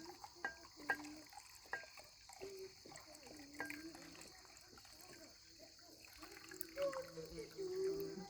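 A rabbit hide is washed in borax water, giving soft, faint splashes and trickles with scattered small knocks. The sound is quiet and steady throughout.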